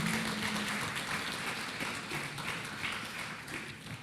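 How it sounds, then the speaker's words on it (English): A crowd applauds a panel at an entrepreneurship evening event, continuous broadband clapping at moderate level that slowly tapers toward the end. "Please, can we give them another round of applause?"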